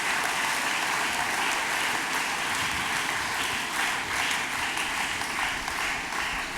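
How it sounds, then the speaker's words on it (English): Steady, loud applause from an audience at a school graduation ceremony honouring alumni parents, continuous clapping filling the whole stretch. "A round of applause to them, please."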